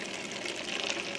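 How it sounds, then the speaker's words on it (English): Water being poured from a container into a rinsed-out plastic spray bottle, a soft, quiet splashing trickle that runs steadily for about a second with no voices. "So let's go ahead and pour this into it."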